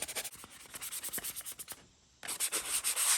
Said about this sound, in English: sanded the entire thing down just lightly, trying not to get rid of the original finish